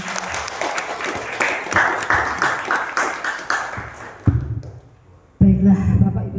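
Applause breaks out at an Indonesian community gathering of local belief adherents in Banyuwangi, steady clapping from a modest crowd for about four seconds, then fading before a louder burst of room noise and speech returns.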